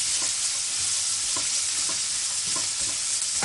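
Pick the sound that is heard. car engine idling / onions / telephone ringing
onions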